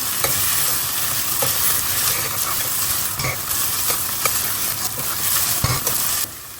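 Onion frying in a pan with a spoonful of garlic paste for a Goan red masala, a steady loud sizzle with occasional stirring scrapes throughout, dropping slightly quieter right at the end.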